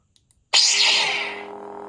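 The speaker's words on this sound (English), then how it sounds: "it's got the Force Unleashed sound font on there" Lightsaber from a prototype saber hilt with a crystal chamber, playing a Force Unleashed sound font: a few faint clicks, then a sudden loud ignition burst settling into a steady humming buzz that slowly fades, heard alone.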